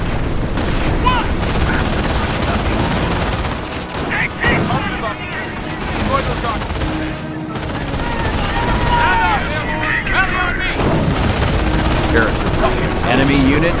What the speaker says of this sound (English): Taking automatic fire!